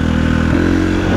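A KTM 450 SXF single-cylinder motocross motorcycle engine running loud and close, a steady rough idle that swells briefly in pitch partway through, with no talk.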